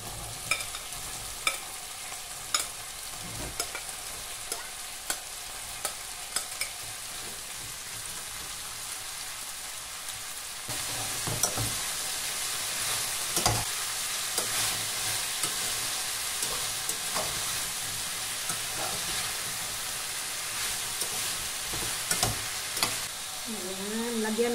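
Bitter gourd and tomato frying in a pan, a steady close sizzle with scattered sharp pops and crackles that grows a little louder midway as more goes in, with no talk over it.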